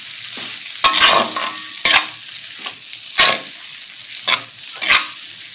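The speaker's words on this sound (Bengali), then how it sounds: "এবার খুব ভালো করে নেড়ে দিই।" Okra fry with spices and dried mango powder being stirred in a pan, with five or six distinct scraping stirs at irregular intervals over a soft background sizzle, close and fairly loud.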